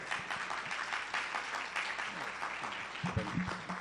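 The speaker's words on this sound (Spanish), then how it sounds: "Un fuerte aplauso, por favor." An audience at a medical conference on pain and human rights applauds a speaker's welcome, a steady round of clapping of moderate loudness, with a brief low voice or murmur near the end.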